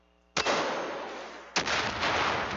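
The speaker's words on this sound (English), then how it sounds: "I'm shooting with the pistol." Two loud, close pistol shots in the video game Far Cry 5, each a sharp crack about a second apart followed by a lingering echoing tail, with no talking.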